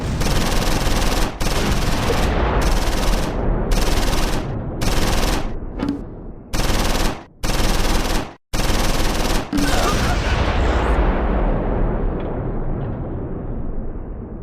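Bursts of machine-gun fire and rifle shots in a Close Combat 4 World War II battle at Simmerath, Battle of the Bulge, 1944, loud and close, coming in repeated rattling volleys separated by short gaps before trailing off into rumbling echoes.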